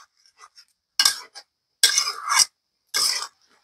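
A utensil scraping and clinking in a pan as chopped onion and garlic are stirred among crab legs, three short bursts of scraping separated by silence, close and fairly loud.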